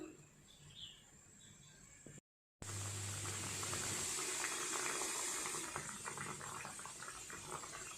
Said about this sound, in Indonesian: jadi setelah mendidih seperti ini